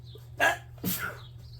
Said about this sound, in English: Pardon me, sneezing everywhere.